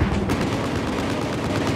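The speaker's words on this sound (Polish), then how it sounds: "ten snajper łupi niesamowicie daleko" Gunfire from Battlefield 4, with a sniper rifle cracking from far away, comes in as a loud, dense burst of booming shots that fills the whole short stretch with no speech.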